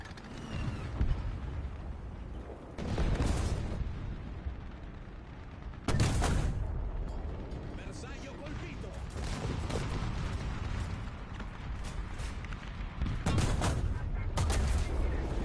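Tank cannon blasts in the War Thunder video game boom out at intervals, three or four heavy, broad shots separated by quieter stretches of engine rumble and mechanical creaking, with speech nearby.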